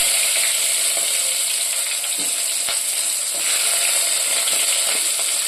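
Onions sizzle and crackle steadily in a hot pan, a dense continuous frying hiss with occasional soft stirring knocks, close and alone without any voices.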